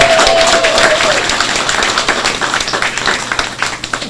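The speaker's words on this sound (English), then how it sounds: "Give him a round of applause" A crowd applauds a newly introduced party leader at a political event in Grenada, with loud, dense clapping that slowly thins into scattered claps, and a brief whistle near the start.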